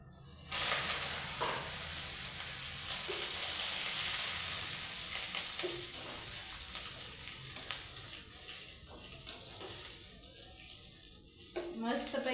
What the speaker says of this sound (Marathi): कांदा झाला की आपण हे कढीपत्ता टाकू